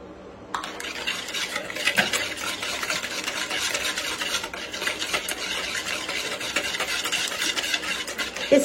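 Sesame biscuit dough being stirred in a bowl, giving a steady, close scraping and rubbing texture that continues without pause for several seconds, with a few sharper knocks against the bowl.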